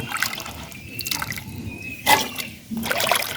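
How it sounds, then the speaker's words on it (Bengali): Cut figs are washed by hand in water, with short bursts of splashing and dripping separated by quiet gaps, close and fairly soft. "ডুমুরগুলো কেটে নিয়েছি, এখন ভালো করে ধুয়ে নিব।"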